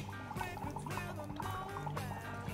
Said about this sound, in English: I will add one piece or pallet of dry ice to the hot water to demonstrate what it does